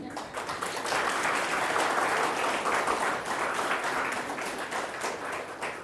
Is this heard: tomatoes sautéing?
no